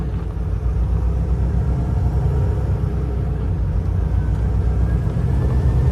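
Highway traffic is heard from inside a truck's cab on a Canadian highway in Nova Scotia as traffic slows on both sides, a steady, loud low engine and road rumble that continues without a break.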